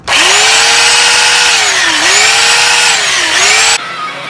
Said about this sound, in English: New power tools.